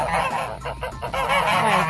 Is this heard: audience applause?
no